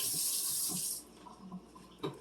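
Water runs from a kitchen tap as hands are rinsed, a steady close hiss for about a second that then breaks into softer splashes and drips, with no talking.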